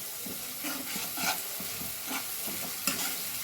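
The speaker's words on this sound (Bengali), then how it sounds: "বেশ ভালো করে মশলাটাকে ভেজে নিতে হবে, মানে কষে নিতে হবে" Spice masala frying in a pan gives a soft continuous sizzle, with repeated stirring strokes scraping through it at close range.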